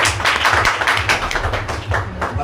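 Dense, steady applause from a seated audience at a business seminar, many hands clapping together throughout, with a low hum of the hall underneath.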